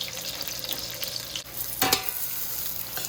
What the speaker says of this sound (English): we're going to allow these to saute until they get a little translucent, at least the onion